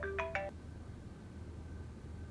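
A mobile phone ringtone chimes briefly at the start, a few quick bright electronic notes that stop within half a second, followed by quiet room hum with no voices.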